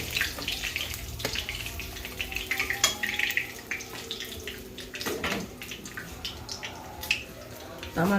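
Fish heads frying in a pan, a watery crackling sizzle with sporadic spits and clatter, close and steady, with a voice talking faintly over part of it.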